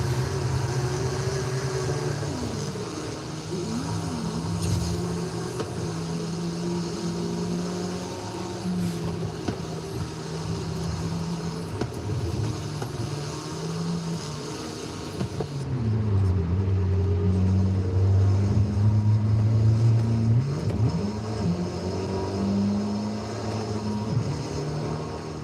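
In Forza Horizon 5, a turbocharged car still on its original transmission drifts with a sustained engine drone and a rumbling exhaust. The pitch swoops up and down as the throttle changes, loud and steady throughout.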